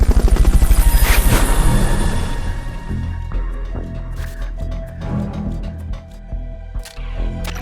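A helicopter's rotor chops loudly in a fast, steady pulse at first, then the sound thins into a mix of game noises and scattered clicks, in Metal Gear Solid: Peace Walker.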